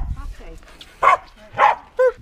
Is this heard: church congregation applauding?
no